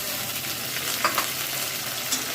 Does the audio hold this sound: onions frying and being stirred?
yes